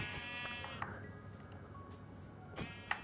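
Sheep bleating in the video game Minecraft, faint and brief, with a few soft clinks and other quiet game noises around it.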